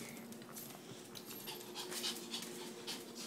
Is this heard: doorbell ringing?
no